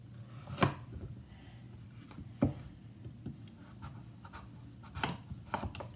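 A knife cuts through a hard kabocha Japanese squash in a kitchen, producing a few sharp, close thuds and crunches spaced irregularly over a quiet background.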